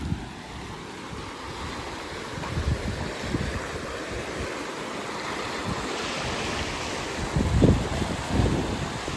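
Strong floodwater rushes past near the damaged Balagam bridge in Gujarat, a continuous broad roar with gusty wind buffeting the microphone and a couple of louder surges, and no voices.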